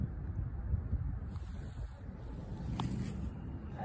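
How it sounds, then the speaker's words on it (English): Wind blows outdoors around a dandelion puffball, a steady low rumbling gust buffeting the microphone, with a faint hiss above it and no talking. "Now wind is blowing."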